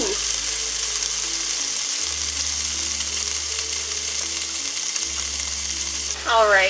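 Two eggs sizzle and fry inside a closed waffle iron, a loud, steady hiss and crackle running continuously alongside a low electrical hum, with a short voice at the end.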